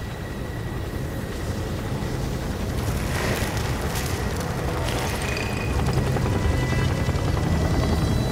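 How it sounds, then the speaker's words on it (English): A GCPD police helicopter in the Gotham Knights video game drones with a steady rotor and engine roar, loud and continuous, swelling slightly toward the end with faint mechanical clanks over it. "The GCPD chopper made that part easy."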